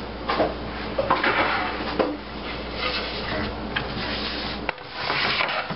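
A cutting board is handled and set down on a kitchen counter, with close wooden scrapes, rubs and soft knocks over steady background noise.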